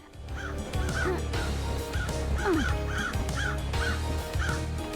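Crows cawing in the video game Paradise Killer, repeated harsh calls from several birds over a low ambient hum, moderately near and steady across the scene with no talking.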